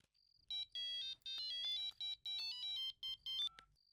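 Mobile phone ringtone for an incoming call, a bright electronic melody of rapid repeated tones in short bursts, fairly close and clear with no talking over it.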